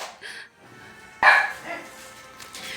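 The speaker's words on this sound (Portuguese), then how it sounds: "vocês reparam o cachorro tá latindo ali" A dog barks once, sharp and fairly close, during a quiet indoor interview, followed by faint background sounds.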